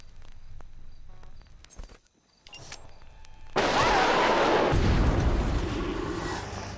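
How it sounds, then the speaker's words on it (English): Bomb explosion in Hitman Absolution, beginning with quiet in-game footsteps and clicks, then a sudden loud, broad blast that rumbles and decays over several seconds. "And I hit them with a bomb."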